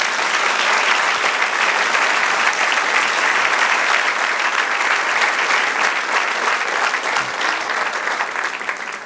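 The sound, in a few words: congregation applause in church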